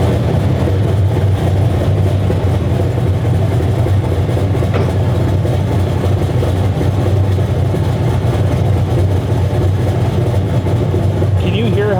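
A 2004 Chevy Silverado pickup engine idles steadily with a loud, continuous low rumble and metallic exhaust rattling, close by, with a brief rev partway through.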